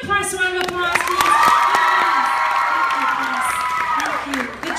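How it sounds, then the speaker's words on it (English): Applause and cheering from a comedy show audience in Miami, a loud crowd clapping with whoops and shouts that swells and holds steady across the whole stretch. "Give my press a round of applause, please."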